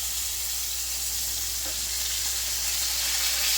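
Cajun pork chops fry in a pan, a steady, loud and dense sizzle that holds constant with no breaks or talking.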